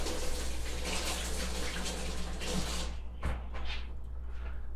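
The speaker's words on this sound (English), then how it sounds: "I rinse off my hand, get all that extra salt off." A tap running as salt is rinsed off a hand, a close, steady rush of water that cuts off near the end, followed by a couple of soft knocks.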